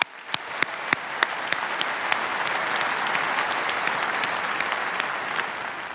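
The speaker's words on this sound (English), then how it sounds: "How about another round of applause for those folks?" Sustained audience applause at a large Washington, D.C. conference following a youth symphony orchestra performance, a dense steady wash of clapping with a few sharp louder claps standing out near the front.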